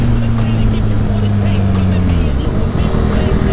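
A Kawasaki Z800 motorcycle engine revs while touring in Bali, a loud, close droning growl that holds steady and then shifts pitch as the revs fall and rise again.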